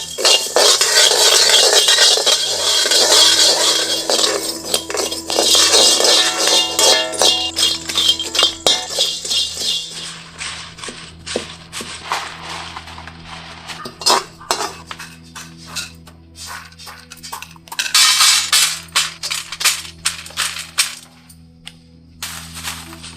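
Whole spices and curry leaves dry-roasting in a pan over low heat, heard as loud, close metallic scraping and clinking of a spoon against the pan in busy bursts, easing into sparser taps and clatters.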